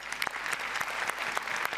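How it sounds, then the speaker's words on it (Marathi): A studio audience at a comedy show claps vigorously for a folk art act, a brief burst of dense, steady applause close by. "लोककलेसाठी तर जोरदार टाळ्या झाल्याच पाहिजेत"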